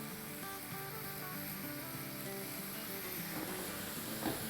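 Minced meat mixed with crushed chillies, Kashmiri red chilli and cumin sizzles steadily in a pan for kebabs, a soft, even frying hiss with no talk.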